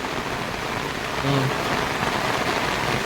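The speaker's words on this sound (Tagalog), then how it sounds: "napakalakas ng ulan mga kabukals, grabe" Heavy rain pours down at a fish pond in a dense, steady hiss close by, with a faint low tone briefly in the middle and no talking.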